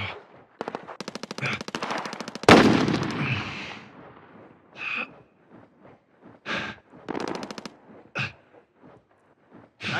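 Stoner 63 machine gun in the video game Warzone firing in rapid sharp bursts, a long volley, a heavy blast, then shorter separated bursts trailing off, loud and close.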